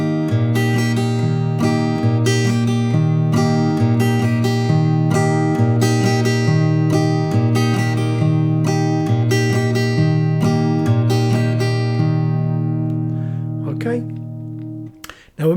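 A guitar plays the strumming pattern for Kenny Rogers' The Gambler at full speed, with alternating bass notes and quick up-down-up strums in a steady country rhythm. It continues for about fifteen seconds, then rings out and stops.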